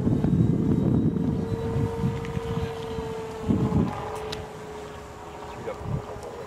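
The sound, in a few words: TBS Mini sound module imitating a P-40 aircraft engine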